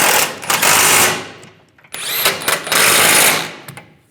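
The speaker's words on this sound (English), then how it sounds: "And tighten the side nuts down." A power tool tightens the rear bumper nuts on a 2007-2013 Chevrolet Silverado 1500, giving two loud, close, sustained whirring bursts with short blips and pauses between them.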